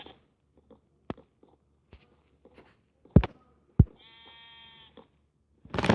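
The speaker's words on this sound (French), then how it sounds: "Là, il y a un mouton." Sheep in a video game give a few short bleats amid soft clicks and footstep-like taps, with a louder sustained bleat near the middle and a sharp burst at the end; no talking.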